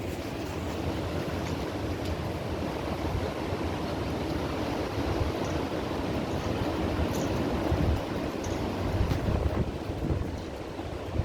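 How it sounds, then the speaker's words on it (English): Strong wind ahead of a storm system in South-Central Kentucky under a tornado watch, roaring steadily and loudly across the microphone with continuous broadband rushing and gusty buffeting throughout. "You can hear the wind."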